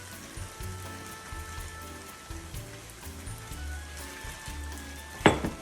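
Sauce sizzles steadily in a pan of stir-fried japchae noodles with vegetables. It is a soft, even crackle like light rain, with a faint rhythmic stirring pulse and one sharp clink near the end.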